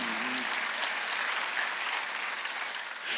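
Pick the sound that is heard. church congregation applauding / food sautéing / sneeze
church congregation applauding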